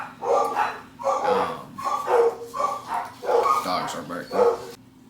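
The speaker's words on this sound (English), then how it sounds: "Dogs are barking." Several dogs bark and yip in rapid, overlapping bursts over a low steady hum, near and fairly loud for about five seconds.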